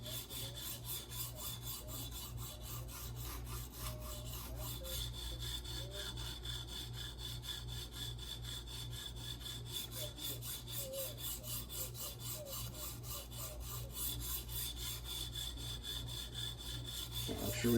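Leatherman Wave blade being reprofiled at 17 degrees on a TSPROF Alpha N guided sharpener with skinny stones, a steady run of close, rhythmic rasping back-and-forth strokes continuing without pause.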